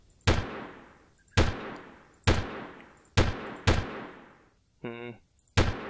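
Six separate, sharp gunshots ring out from a rifle in Delta Force 2, each a loud crack with a decaying tail, spaced roughly a second apart, with a brief buzzing electronic tone between the last two.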